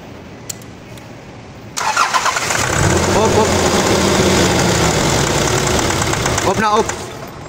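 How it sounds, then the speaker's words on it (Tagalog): A 2019 Nissan Navara engine cranks and catches, then runs unevenly and rough with a sputtering, misfiring note, loud and close, before cutting off near the end. "So ngayon try natin papa-start ulit."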